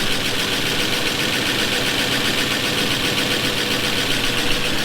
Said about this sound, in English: It's running. It's not happy, but it's running.